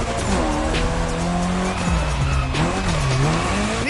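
Drift Queen Lancer Evo 6 sliding at an airport in The Crew Motorfest, loud tire squeal wavering over a revving engine that climbs and dips as the car holds the drift.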